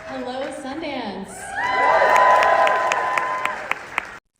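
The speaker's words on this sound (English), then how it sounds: "That was loud cheers and genuine applause at the Sundance Film Festival" Cheers and applause rise from a Sundance Film Festival crowd, building from scattered voices into loud, sustained clapping with whoops and shouts, then cutting off abruptly.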